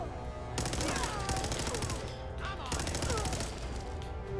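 Rockets and explosions go off in a Fallout 4 firefight, heard as two sustained bursts of crackling, rapid-fire blasts with whistling streaks, one after the other, under a steady noisy backdrop.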